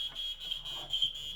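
A smoke alarm sounds a steady, high, thin tone in several short pulses during a test with canned smoke, faint and close with no one talking.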